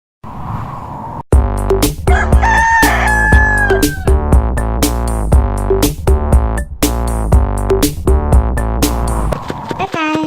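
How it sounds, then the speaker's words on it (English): A rooster crows with a rising, bending call amid bright, rhythmic children's music, loud and close, with further short animal-like calls mixed into the beat. "rooster"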